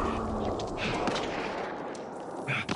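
Gunfire in a PS4 shooter sounds as dense, continuous bursts of rapid shots and booms, loud and busy throughout, with no clear pauses.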